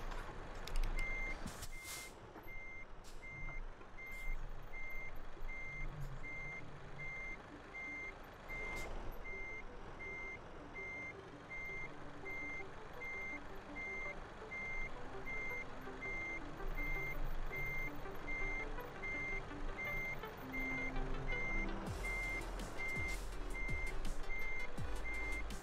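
A reversing truck in Euro Truck Simulator 2 beeps steadily and evenly throughout, the repeating warning tone running over a low engine rumble, with a hiss of air brakes near the start and end.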